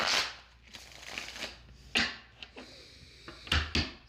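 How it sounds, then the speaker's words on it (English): A tarot card deck being shuffled close by, with several crisp riffling bursts and soft card slaps spread across a few seconds in a quiet room, no talking. "One more shuffle here, Gemini, and then I'm ready to go."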